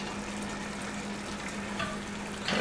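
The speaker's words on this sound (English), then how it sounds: "We're going to add some garlic in here now." Garlic sizzling in a pan for jambalaya, a continuous moderate frying hiss with a low steady hum underneath and a louder burst of crackle right at the end, no voices.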